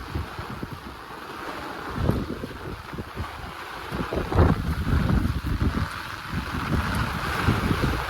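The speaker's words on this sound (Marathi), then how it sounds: "हवा खूप आहे हवा हवा हवा येते खूप" Strong wind buffeting the microphone outdoors in the first rain of the season, a continuous rough roar with gusts swelling and fading throughout.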